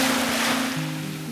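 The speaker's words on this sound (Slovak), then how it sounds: "Ja tak veľmi zbožňujem počúvať šum mora, je to strašne upokojujúce" Sea waves wash onto a beach on Madeira, a continuous close rushing surf with a low steady hum running underneath.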